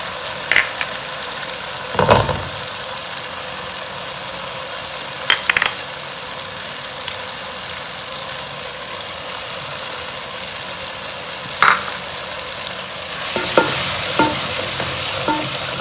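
A steady, close sizzle of chillies frying in spice masala in a pan, with a few sharp clinks and scrapes of stirring scattered through. The frying grows slightly louder near the end.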